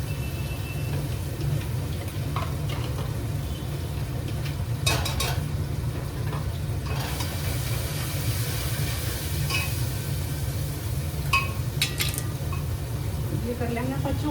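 Cumin, asafoetida, onion, ginger, green chilli and garlic frying in oil in a home kitchen, a steady low sizzle throughout with occasional clinks of a spoon stirring the pan, under a person talking.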